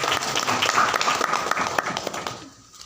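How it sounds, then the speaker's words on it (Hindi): A congregation at a Christian preaching service breaks into dense, loud applause that holds steady for a couple of seconds, then thins and fades out at the end. "एक बार जोरदार तालियां बजाएंगे।"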